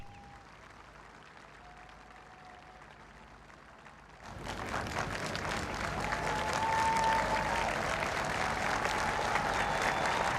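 Crowds lining London streets for the Queen's procession to Buckingham Palace break into sustained applause that swells after a quiet start and holds as a broad, distant wash of clapping.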